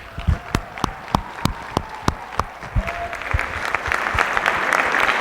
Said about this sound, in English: give that organization a round of applause